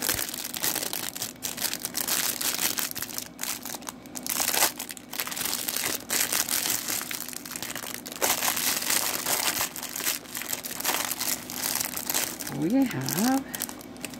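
Plastic packaging of a polygel nail kit crinkles and crushes steadily throughout, close and fairly loud, with a person speaking briefly over the rustling.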